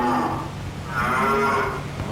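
Cattle at a stockyard low in long, overlapping moos, loud and close, with no talking.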